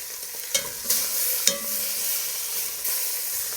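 Beef short ribs searing in a hot pan, a steady bright sizzle with a few sharp pops and clanks of handling, close up and with no one talking.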